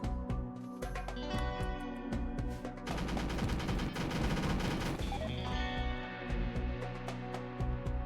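Gunfire from a shootout in RimWorld, with dense rapid bursts of shots and sustained machine-gun fire over a steady game soundscape. The firing grows heaviest midway and stays loud and continuous throughout, with no talk.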